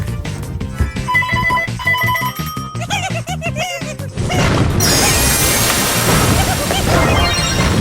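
An electronic phone ringtone, a call from the speaker's mother, plays a bright repeating melody, then gives way to loud, dense noisy music from a Roblox game that continues to the end.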